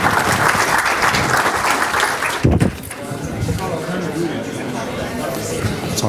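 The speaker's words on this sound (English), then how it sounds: "Can we give a round of applause" A meetup audience gives a round of applause after a talk, a dense sustained clatter of clapping with some chatter that fades into crowd murmur and a speaker's voice.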